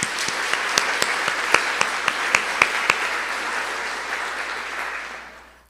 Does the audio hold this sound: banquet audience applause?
yes